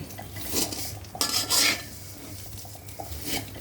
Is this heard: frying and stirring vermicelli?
yes